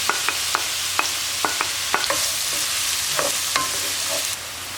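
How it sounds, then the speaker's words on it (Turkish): Onions sizzle steadily in a hot pot of butter while a spoon stirs, making repeated sharp scraping clicks against the metal. "Şimdi soğanlarımı 3-4 dakika Şöyle kavurdum"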